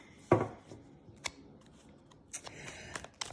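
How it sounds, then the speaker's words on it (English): Tarot cards being shuffled by hand, giving a sharp riffle burst near the start and then scattered soft flicks and taps of the cards, close and fairly quiet with no talking. "I also just got very anxious while I was shuffling these cards."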